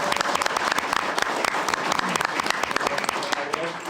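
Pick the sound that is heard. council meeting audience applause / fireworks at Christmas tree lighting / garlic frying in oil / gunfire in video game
council meeting audience applause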